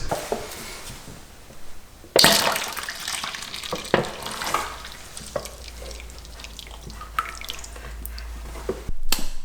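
Thick malt extract pours and drips into a plastic brewing bucket, with wet splashing and trickling sounds and occasional plastic knocks, no talking.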